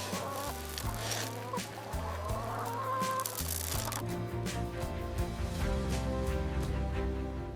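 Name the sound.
hill chickens clucking at feeding time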